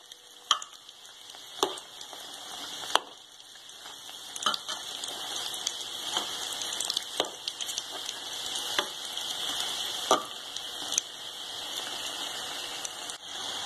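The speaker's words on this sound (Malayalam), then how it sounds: "നമ്മുടെ ബ്രെഡ് ചിക്കൻ മിക്സ് നന്നായിട്ട് ഫ്രൈ ആയിട്ടുണ്ട്" Bread and chicken mix frying in oil in a pan gives a steady, close, bright sizzle with scattered sharp pops and crackles throughout, with no voices.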